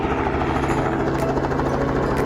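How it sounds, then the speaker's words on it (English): Helicopter in flight over a school, a loud, constant rotor thump and engine roar filling the whole span from close inside the cabin. "and then Kaylee videoed me outside her window in the helicopter"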